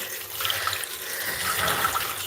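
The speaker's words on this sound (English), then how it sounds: "Let's fill up a little water to wash his face" Water running from a tap to fill a container for washing a goat's face, a steady close splashing hiss with no talking.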